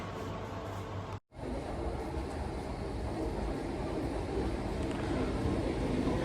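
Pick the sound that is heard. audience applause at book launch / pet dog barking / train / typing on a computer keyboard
train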